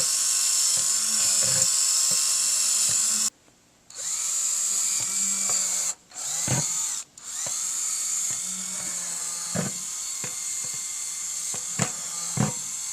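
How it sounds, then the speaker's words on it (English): A power drill whines loudly in bursts, drilling drainage holes in the bottom of a homemade paper brick press, stopping and starting several times with brief pauses between runs, close by and with no voices. "I just finished drilling the holes on the bottom"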